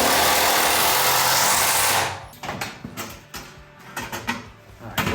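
Power drill driving screws into a wall stud during an off-grid home build: a loud, steady whir for about two seconds, then a run of sharp, uneven knocks and clatter close by.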